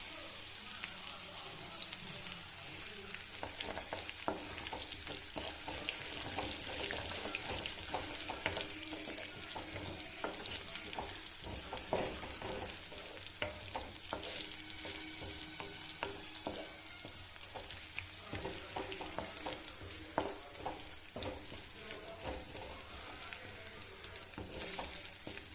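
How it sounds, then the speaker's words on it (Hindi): Crushed garlic, black pepper and cloves fry in hot oil with bay leaf and black cardamom for chana masala, giving a steady close sizzle broken by frequent scraping stirs. "तो अभी यहाँ पे भुन गई है लहसुन"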